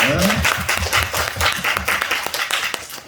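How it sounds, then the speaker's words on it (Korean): A church congregation claps together after a prayer in a Wednesday service, a rhythmic, fairly close burst of hand claps that thins toward the end. "하나님께 영광의 박수 드리겠습니다."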